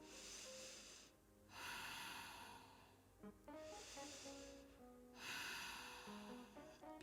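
Slow deep yoga breaths, two long airy inhales and exhales rising and falling over soft sustained background music, faint and close.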